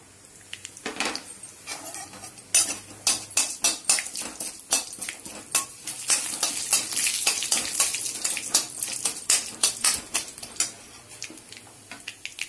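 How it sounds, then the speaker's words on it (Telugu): Onions frying in hot oil for a brinjal and lobia curry, a spoon scraping and clattering against the pan in quick, uneven strokes over a soft sizzle, close and fairly loud, with no voices. "చూడండి ఆనియన్స్ వేస్తున్నానండి"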